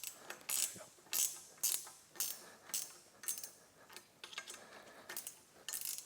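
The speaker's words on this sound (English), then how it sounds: "13 mil ratchet" 13 mm ratchet turning a nut on a snowmobile dolly, a quick series of sharp clicking bursts in a steady rhythm, close and fairly quiet, with no talking.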